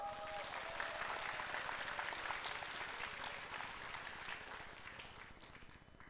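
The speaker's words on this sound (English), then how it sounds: "please, let's give them a big round of applause." An audience at an Atomy promotion ceremony in Atlanta applauds the selected centers: fairly quiet, dense, even clapping heard from a distance that gradually tapers off toward the end.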